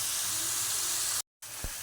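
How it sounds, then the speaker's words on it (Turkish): Onions sizzling in oil on the stove, a steady close hiss of frying that cuts out briefly before resuming, with a soft clink near the end. "soğanlarımı bir miktar sıvı yağla birlikte ocağın üstüne bıraktım. Soğanlarım kavrulsun."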